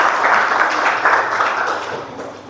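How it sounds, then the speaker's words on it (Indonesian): Classroom audience clapping for a student in a brief burst of applause that fades toward the end. "Tepuk tangan untuk Alvarez."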